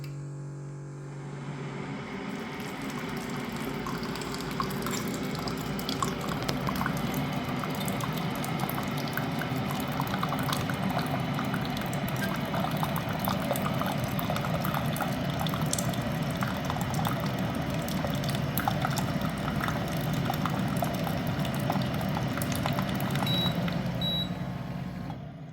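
Philips ADD5962BK hydration station dispensing 150 ml of hot water at 100 degrees: a steady, continuous pour with a low rushing hiss and machine hum lasting throughout, close and moderately loud with no talk.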